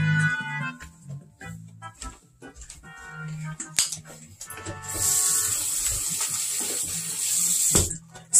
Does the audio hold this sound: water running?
yes